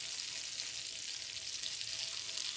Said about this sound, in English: to put them down in that hot butter